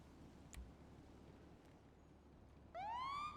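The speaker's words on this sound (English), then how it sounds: "can you turn your sirens off?" Wailing police siren from a video game, starting late and sweeping in rising and falling tones, loud and close over a low ambient rumble with a faint click earlier.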